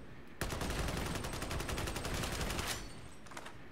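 Rapid automatic gunfire from a weapon in Warhammer 40,000: Darktide, a loud sustained burst of closely spaced shots lasting about two seconds, then stopping, with a few fainter trailing sounds afterward.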